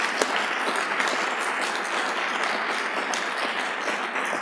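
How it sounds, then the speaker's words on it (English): A ceremony audience gives a round of applause to the winners of the 2011 Ernest Orlando Lawrence Award, dense, steady clapping from a large room, even and sustained throughout. "One more round of applause for all of our winners."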